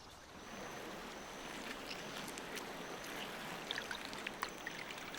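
Powerful Rusizi River near the lake rushing with a strong current, a steady broadband wash of moving water, moderately distant and fairly quiet, with faint splashes and clicks near the end.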